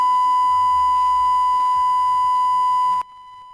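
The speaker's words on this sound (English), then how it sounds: "this is how it sounds if you have 1 kilohertz running and it's not working" Steady 1 kHz test tone through a faulty DBX 286s channel strip preamp, a pure continuous whine over low rumbling hum and crackle that abruptly drops to a thinner, quieter tone near the end.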